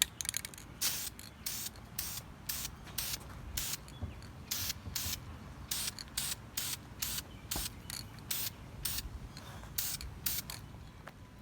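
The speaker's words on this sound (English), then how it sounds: "The first coat's just going to mist it on there." Dupli-Color gloss black caliper spray paint misted in short repeated bursts onto exhaust tips of a 2018 Dodge Charger Scat Pack, a steady series of close, hissing sprays with brief gaps between them.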